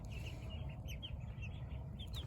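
Cream Legbar hens and other backyard chickens cluck and chirp softly in a coop, a chatter of short, repeated calls over a constant low rumble of background noise.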